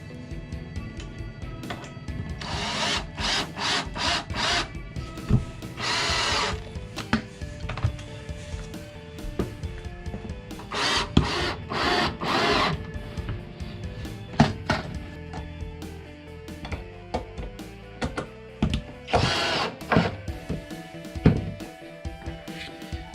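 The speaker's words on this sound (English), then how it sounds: "So what I did was I put a bunch of bolts on the bottom, connecting the 2x6 to the 2x4." A power drill drives bolts through 2x4 and 2x6 lumber in short, repeated whirring bursts, mixed with scattered knocks and clunks of handling wood and hardware.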